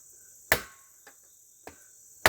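A cheap Ozark Trail 7-inch fixed blade knife chops into PVC pipe, giving sharp hard impacts, two loud and two softer, spaced unevenly over a couple of seconds against a faint steady background hiss.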